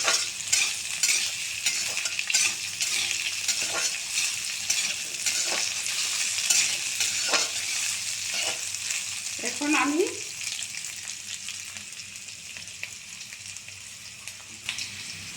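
Potatoes and squash frying in a pan, a steady close sizzle with scattered scrapes and taps of a spatula stirring, plus a brief voice-like sound partway through.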